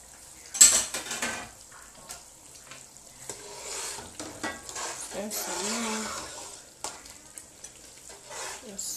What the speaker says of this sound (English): Yes, tomatoes is still frying.